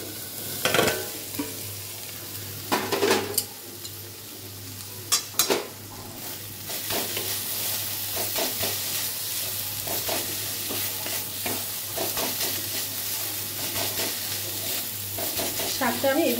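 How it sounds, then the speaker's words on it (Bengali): Green amaranth leaves frying in a pan and being stirred with a utensil: a few clanking scrapes early on, then a steady close sizzle with repeated soft stirring strokes running through to the end. "শাকটা আমি এভাবে একটু ঘেটে দেবো ভালো করে"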